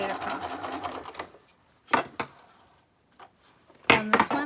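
Sewing machine stitching straight across dress straps and a neckline, short bursts of rapid mechanical clatter separated by pauses, close and fairly loud.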